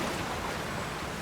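Waterfall in a Nintendo video game, a steady broadband rush of falling water, even and unbroken throughout, with no voices.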